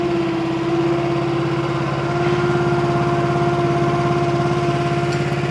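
Small engine on a Wolfe Ridge log splitter idling steadily at low throttle with the hydraulics running, a constant close drone with a strong low hum and no talk.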